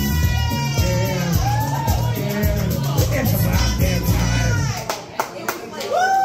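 A crowd at the Dam View Inn claps and cheers loudly with shouts and whoops, then the applause thins out as a voice speaks near the end.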